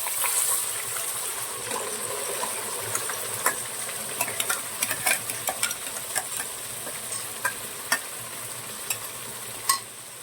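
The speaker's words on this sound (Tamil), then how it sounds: "அது போட்டு நல்லா கொஞ்ச நேரம் கலக்கலாம்." Ground masala is stirred into a sizzling mutton gravy, giving a steady frying hiss with scattered spoon scrapes and clicks against the pan, close up and without speech.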